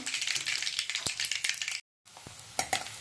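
Mustard seeds and cumin sizzling in hot oil for dal, with a close, crackling fry and sharp pops of bursting seeds, cut off by a short gap of silence before the sizzle resumes more quietly.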